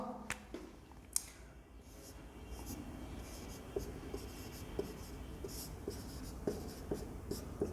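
A teacher writes on a board during a science lesson, making faint scratchy strokes punctuated by light taps at irregular intervals, quiet and close.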